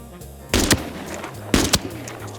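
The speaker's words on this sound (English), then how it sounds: "He heard the cannon fire." Two loud video-game gunshots in Arena Breakout Infinite ring out about a second apart, each a sharp blast with a quick echoing tail, over a low background hum.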